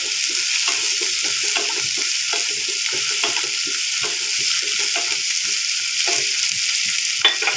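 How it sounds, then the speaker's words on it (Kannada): Onions sautéing in oil for masala chitranna, a steady close sizzle across the whole stretch with frequent small scraping stirs and no voices. "ಸ್ವಲ್ಪ ಈರುಳ್ಳಿ ಆ ಎಣ್ಣೆ ಒಳಗೆ ಸ್ವಲ್ಪ ಬಾಡಿಸ್ಕೊಬೇಕು"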